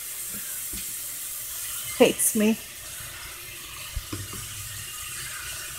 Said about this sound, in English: my tomato sauce is frozen. So I just have it running under hot water.